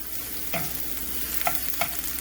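Spoon stirring garlic and tomato sauce in a frying pan on the stove, a soft steady sizzle with a few scraping strokes, close and alone.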